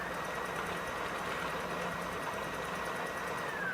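Two Y-axis motors driving a homemade CNC router give a steady droning whir with a faint rising whine near the end, continuous and moderately loud, with no talk.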